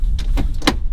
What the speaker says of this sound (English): Caps are on, doors closed.